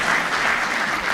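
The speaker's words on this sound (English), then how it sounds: "Let's give another round of applause to Professor Atemo" An audience at an awards ceremony breaks into a round of applause for a professor, a loud, dense, continuous wash of many hands clapping together.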